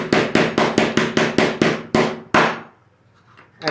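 Gentle hammer taps drive an 8 mm nut into an MDF part, about ten crisp evenly spaced strikes that slow slightly toward the end, then a short quiet gap and a final small knock.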